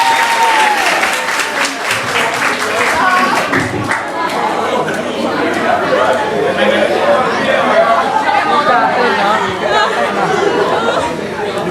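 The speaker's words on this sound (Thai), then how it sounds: "น้องขอเสียงปรบมือให้พี่เขาด้วยครับ" A camp crowd bursts into sustained applause for a performance, dense clapping mixed with chatter and cheering throughout, loud and close.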